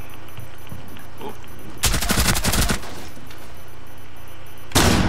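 Automatic gunfire in Rainbow Six Siege, a dense rapid burst lasting about a second, then a quiet stretch of game ambience before another burst starts at the end.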